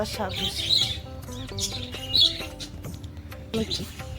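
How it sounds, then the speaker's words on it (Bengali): Several birds call outdoors in a garden at sunset, their short, bright chirps repeating a few times over a low background murmur. "পাখিগুলো দেখেছো আমাকে দেখে এখন চিৎকার করছে"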